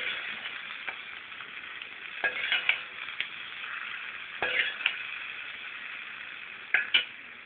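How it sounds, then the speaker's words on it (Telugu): Hot tempering of green chilli and curry leaves is tipped into curd chutney, a soft continuous sizzle under scraping stirs, with several sharp clinks of a spoon against the pan or bowl. "ఇందులోకి ఈ పోపుని వేసేసుకుందాం."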